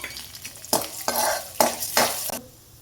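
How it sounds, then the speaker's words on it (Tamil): Chana dal frying in hot oil for beetroot chutney, stirred in a pan with a utensil, giving several distinct close scraping, sizzling strokes in an irregular rhythm, with no talking. "இப்போ வந்து நம்ம கடலப்பருப்பை மட்டும் போட்டு கொஞ்சம் வணக்கிக்கலாம்"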